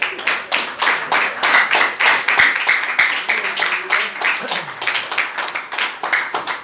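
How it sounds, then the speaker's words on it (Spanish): A church congregation claps steadily and loudly in a continuous rhythmic wave throughout, with no voices rising above the hands. "Denle un fuerte aplauso al que hizo Jesús"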